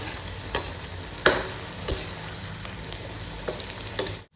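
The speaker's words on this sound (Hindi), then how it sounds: "यहाँ पे मस्टर्ड ऑयल में हम इसको करेंगे डीप फ्राई।" Arbi pakoras deep fry in mustard oil, giving a steady close sizzle and crackle with occasional sharp pops and light ticks throughout.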